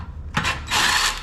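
Impact wrench on rusted bolts of a Toyota Land Cruiser 80 Series: two short bursts of hammering rattle, the second longer and louder, close up.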